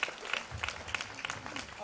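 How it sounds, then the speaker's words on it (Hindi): Faint audience applause at a cultural talk event, a thin patter of clapping beneath a speaking voice, distant and brief. "ताली बजाना चाहते हैं ना, बजाइए."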